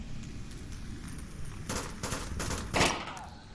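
Gunfire from pre-firing in the VR shooter Onward, a few short sharp bursts of shots rising out of a low background hum, the loudest burst near the end.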